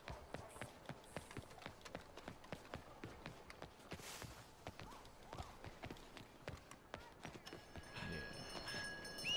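Rapid, regular horse hoofbeats clatter in a steady galloping rhythm in Red Dead Redemption 2, fairly quiet, with a swelling rumble toward the end.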